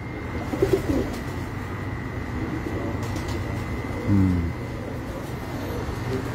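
Pigeons on a rooftop, with a couple of brief coos early on and another low cooing phrase later, over a steady outdoor background hum.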